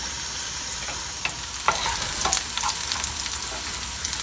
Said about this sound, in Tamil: நல்லா பொரிஞ்சு வரட்டும்.